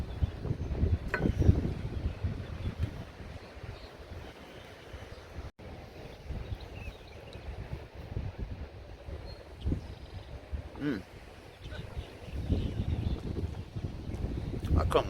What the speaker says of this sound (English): It's still windy out here.